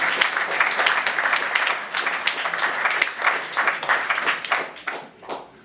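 An audience claps for the Slovenian writer Dušan Čater, a fairly dense round of individual claps with audible separate hand strikes, fluctuating and thinning out toward the end.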